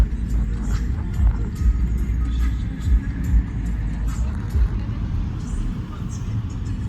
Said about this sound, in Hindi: आप देखें कि गाड़ी स्पीड चलाई हुई है ताकि अब जल्दी से जल्दी पहुँच जाए।